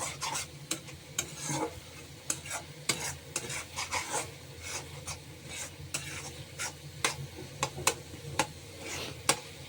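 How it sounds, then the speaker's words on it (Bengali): Spices with chili powder, turmeric and salt fry in a pan, with a steady sizzle under repeated scraping strokes of a spoon stirring them close up. "মশলা ফ্রাই হয়ে গেছে"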